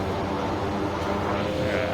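A Kodiak short-takeoff-and-landing plane on a mountain flight in Papua New Guinea drones steadily from the cabin, its engine roar loud, broad and unbroken throughout.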